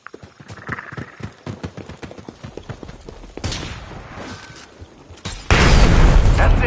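Detonating an enemy in Predator: Hunting Grounds brings a booming blast, followed by a larger, sustained roaring explosion at the end. Rapid rhythmic thuds and clattering precede them, and a voice speaks briefly.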